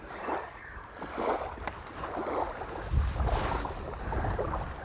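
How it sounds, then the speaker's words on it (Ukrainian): Steady wind buffeting outdoors on an October fishing bank in Kyiv, with gusty low rumble swelling and easing over an open-water background; no voices. "Вітер посилився"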